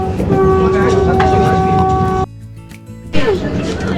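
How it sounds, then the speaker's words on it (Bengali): A Vande Bharat Express train departing Balasore rumbles loudly with a sustained horn tone, cuts out abruptly into near quiet, then the rolling train noise returns. "বালেশ্বর থেকে ট্রেন ছেড়ে দিল"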